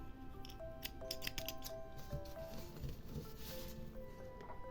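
Scissors snip through yarn during a crochet project, several quick sharp cuts in a cluster near the start followed by softer handling noise, close and fairly clear with no talking.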